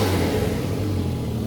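A 1JZ-swapped BMW E36 drift car engine revs up during coolant bleeding, giving a loud, close, sustained rumbling roar with no talking.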